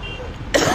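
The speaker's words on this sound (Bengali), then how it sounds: "ঠান্ডাও লেগে যাচ্ছে, কাশি চলে আসতেছে।" A single short cough from someone caught in sudden rain and feeling a chill, loud and close over a steady low rumble of traffic.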